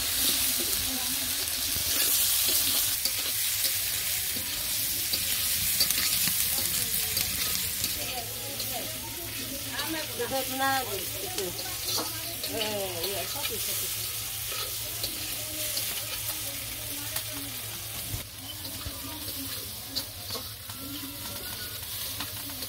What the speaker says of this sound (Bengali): মাছ ভাজা হয়েছে, নামিয়ে নিই।